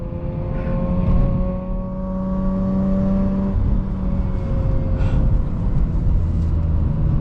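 A Mazda RX-8 on new, slightly larger wheels and less-stretched tires accelerates steadily, its engine droning with rising tones heard from inside the car, loud and continuous with road roar underneath.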